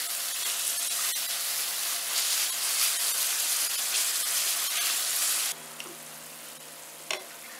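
Minced beef sautéing with onion in a pan gives a loud, continuous sizzle and hiss, then drops to a quieter simmer with a short clatter near the end.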